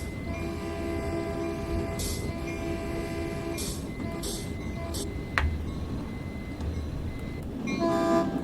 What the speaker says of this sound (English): The horn does sound better though.